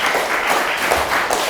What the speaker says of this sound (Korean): 이럴 때 박수가 나와야 되는 거죠.